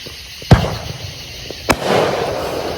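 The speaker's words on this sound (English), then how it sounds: "Fireworks everywhere." Two sharp firework bangs a second apart on a July 5th night outdoors, each with a brief crackling tail, followed by a low scattered rumble of more distant pops.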